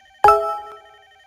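A single incoming-call chime from a Mitel web softphone: one bright electronic tone that strikes sharply and rings out with a clean decay, heard alone in a quiet room.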